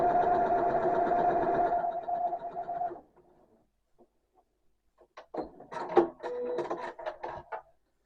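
A domestic sewing machine fitted with a quarter-inch foot stitches quilt squares in a steady, close whirring run for about three seconds, then stops; scattered handling clicks and rustles follow.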